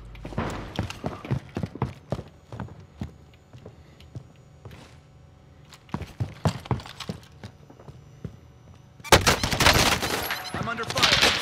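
Gunfire in Call of Duty Warzone comes as repeated bursts of rifle and automatic shots, some sharp and close, others fainter, ending in a dense, loud volley.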